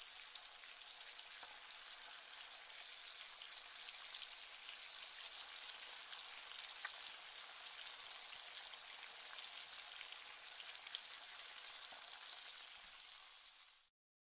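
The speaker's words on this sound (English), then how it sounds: "So I started frying the bacon." Bacon sizzles in a Second Life role-play cooking system, a steady, hissing crackle like light rain that runs evenly for about fourteen seconds at low volume before cutting off abruptly, with no talk.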